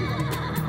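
At a Central Asian horse market, a horse whinnies briefly with a harmonic, wavering call, moderately loud against the market's background.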